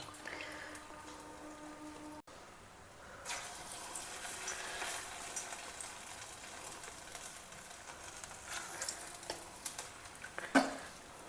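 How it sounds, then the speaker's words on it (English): Bonda batter balls frying in hot oil, a steady soft sizzle that continues throughout, with a few faint clinks and a brief louder knock near the end. "take out small portions of the batter and make it into a ball and gently drop it into the hot oil."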